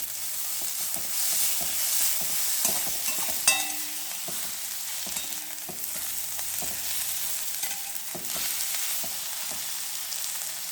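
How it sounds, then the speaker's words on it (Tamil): Chopped ridge gourd sautés in oil in a pan, a steady sizzle and crackle broken by occasional scrapes and taps of a stirring spoon. "இதை நல்லா வதக்கிடணுங்க. பச்சை வாடை போகிற வரைக்கும்."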